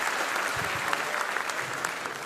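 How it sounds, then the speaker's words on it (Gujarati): Audience applause at a live Gujarati comedy show, a dense, steady wash of many hands clapping that holds at an even level throughout, with faint voices mixed in. "એકવાર લવારીના તમામને વધાવો તાળીઓથી."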